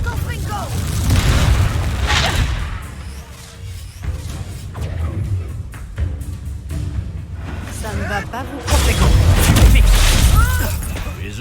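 A Confringo blast spell from Hogwarts Legacy erupts in a loud, booming burst, with further crashes amid busy game sound and voices through the scene.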